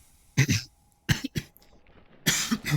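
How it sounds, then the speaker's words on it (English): A person coughs in three close bursts, loud and near, with short quiet gaps between them and no talking. "So sorry about the coughing."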